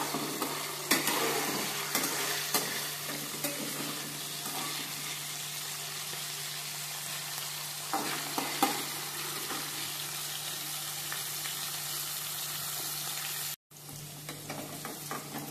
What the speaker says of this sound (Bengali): ভালো করে উল্টে পাল্টে ভেজে নেব।